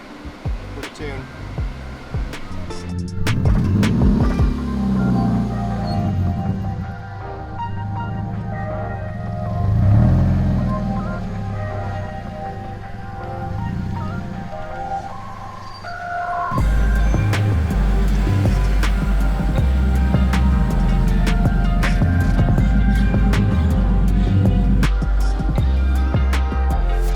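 HKS supercharged Subaru BRZ engine on a dyno pull, a loud steady drone that builds and wavers, then jumps to a harsher, heavier roar for the final stretch, running continuously for nearly half a minute.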